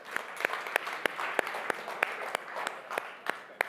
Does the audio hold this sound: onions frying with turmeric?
no